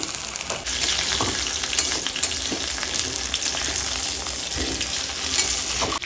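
Chicken pieces for Peshawari murgh fry in a pan with a close, continuous crackling sizzle and scattered sharper pops, with no one speaking.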